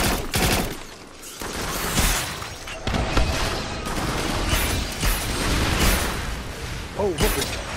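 Rockets and weapons fire in the video game Farpoint, a dense, continuous barrage of mechanical bursts and blasts close up, with a player talking over it.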